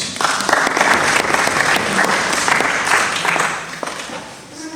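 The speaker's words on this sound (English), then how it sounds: "Please give him a round of applause." Warm audience applause greets a speaker called forward at an SSVP All African Assembly, a dense round of many hands clapping that holds steady before easing slightly toward the end.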